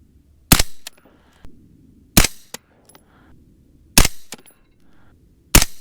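Four sharp, loud rifle shots from a Uintah Precision UPR15 in .223 Rem firing 77-grain Sierra bullets ring out alone, spaced roughly two seconds apart, each a crisp crack with a brief echoing tail.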